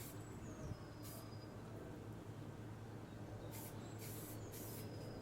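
Short hissing bursts of a spray can coating a Land Rover Defender windscreen bracket, one near the start and a cluster of several toward the end, faint over a constant background hum.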